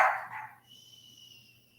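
A puppy gives a short, close bark burst at the start during a home tabletop card game session, then a faint high whine lingers in the quiet.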